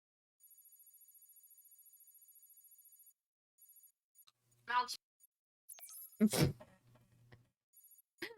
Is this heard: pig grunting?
no